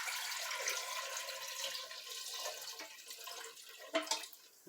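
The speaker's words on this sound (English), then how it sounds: "we're gonna fill that with water" Water runs steadily from a kitchen tap into a pot for hard-boiling eggs, a continuous hissing splash at close range with a few louder gurgles near the end and no talking.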